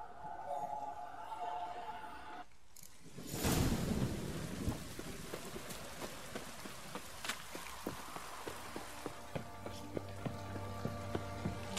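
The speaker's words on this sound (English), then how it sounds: "This downpour's a bastard, it is." Steady heavy rain pours down in the video game The Witcher 3: Wild Hunt, broken by a sudden loud thunder crack and rumble, followed by rhythmic dripping taps.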